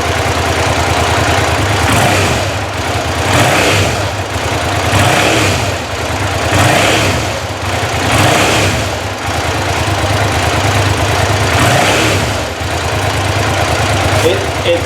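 A 2005 Suzuki SV650 motorcycle engine runs loudly and steadily through an aftermarket Delkevic exhaust, its revs swelling and falling in repeated surges every couple of seconds, with a rough mechanical rumble throughout.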